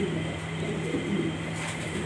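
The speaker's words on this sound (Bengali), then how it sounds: "Andalusian colour German beauty master pair" Andalusian-colour German Beauty pigeons coo softly and briefly, close by, over a low steady background hum.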